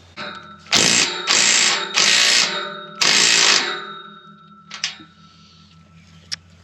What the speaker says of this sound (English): I'm worried I'm going to break this bolt if I go any tighter